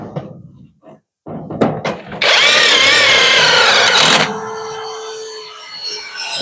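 A power drill drives screws to fix panels in place, a loud steady whir of about two seconds after a few knocks and thunks, then a lower tool hum carrying on at the end.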